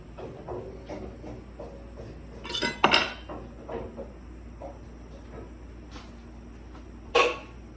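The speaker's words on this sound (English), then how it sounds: "This is a beautiful pot with a cover, but I can't get the top off." Metal pot with a stuck cover being handled in a home kitchen: scattered light clinks and scrapes, with two sharper, louder metallic clatters standing out near the close microphone, no talk.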